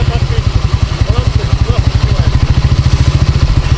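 A mini bike engine running close by, a fast, even chugging pulse that holds steady and loud for the whole stretch.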